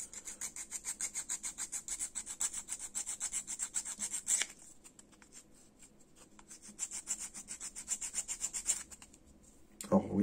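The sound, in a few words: filing a Warlord Resin Plus miniature base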